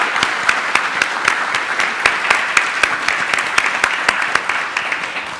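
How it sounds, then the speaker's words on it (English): Audience applause at a country risk conference panel, steady clapping from many hands with sharp individual claps standing out, sustained and fairly loud throughout with no talk over it. "So if you can help me give them a round of applause."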